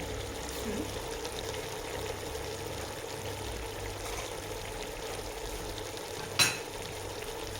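Tomatoes and garlic cooking in a pot with ginger, black pepper, salt, turmeric and caraway for an olive tagine, a steady low sizzle and simmer throughout, with one brief clatter near the end.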